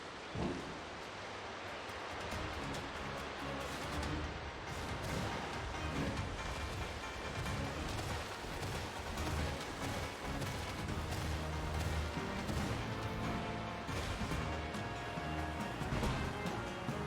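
Misty Explosion move effect from the Pokemon Violet video game, a dense continuous roaring blast of noise layered with game music, loud and sustained throughout.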